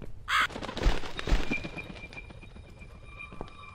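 A crow in the horror adventure game The Cat Lady gives a harsh caw, followed by a few softer calls over a low rumbling ambient background; no one speaks.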